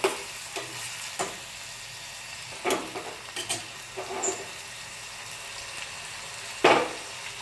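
Onions frying in a pan for a North Karnataka style thalipeeth, low sizzle under sharp scraping spatula strokes at irregular intervals, one louder scrape near the end, close and quiet.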